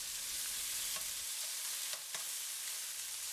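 Steak pieces stir fried with ginger over high heat, giving a soft, steady crackling sizzle broken by a few light scraping stirs, close and quiet, with no talking.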